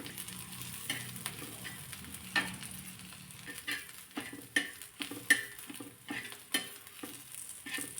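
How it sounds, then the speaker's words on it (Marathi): Green chili and ground peanuts sauté in a pan, a steady soft sizzle broken by irregular scraping stirs and a few light utensil clinks, close and moderately quiet with no talk. "हिरवी मिरची आणि वाटलेले शेंगदाणे यामध्ये घालून चांगलं हे परतून घ्यायचं आहे"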